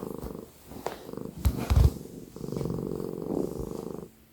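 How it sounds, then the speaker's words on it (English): A cat purrs loudly and close up in steady rumbling cycles, with a few soft bumps and rustles in between. "You hear his purring. He purrs so loudly."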